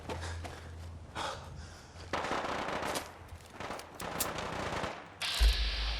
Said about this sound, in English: That sounds like some heavy artillery.